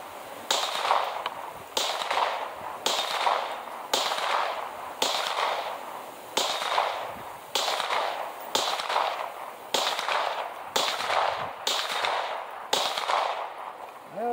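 Glock pistol fitted with a Glock Performance trigger, in a PSA Dagger build, firing at a steel plate rack: eleven sharp, loud shots at a steady pace about one per second, each with a brief ringing tail.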